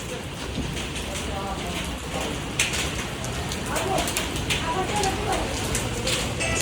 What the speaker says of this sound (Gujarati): અત્યારે વરસાદ આવે છે